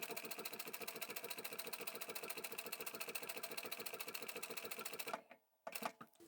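Sewing machine running a steady rapid stitch through a leather or vinyl seam, a fast even mechanical clatter that continues for several seconds, then stops, with a few brief clunks as it reverses to backstitch.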